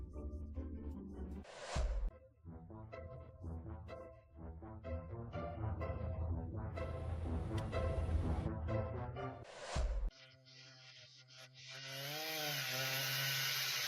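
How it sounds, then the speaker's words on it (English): A chainsaw saws through a tree in a forest: a loud, steady buzzing drone that runs for several seconds with brief dips, ending in a harsher, higher whine. "a worker finishes sawing a tree"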